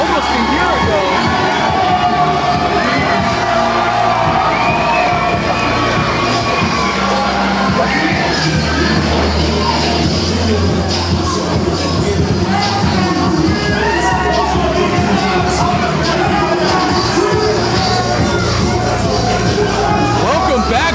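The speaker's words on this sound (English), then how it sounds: "the crowd is happy to have him back" Wrestling crowd at a Central States Wrestling event cheering for a returning former champion, a loud, continuous roar of shouts, whoops and yells with no letup.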